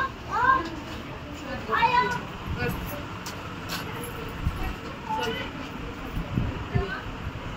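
A cat meows several times, short rising calls spaced apart, over a busy background of traffic and distant voices.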